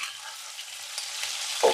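Chopped onions for a ridge gourd dry chilli curry fry in hot oil with a steady, close sizzle, ending in a short clunk of a utensil near the end.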